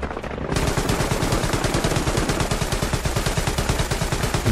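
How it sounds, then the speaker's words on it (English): Aircraft strafing-run gunfire in the WWII shooter Hell Let Loose: a loud, sustained burst of rapid, evenly spaced shots rattles continuously for several seconds, close and dense, with no voices over it. "strafing run coming in from northeast to southwest on the"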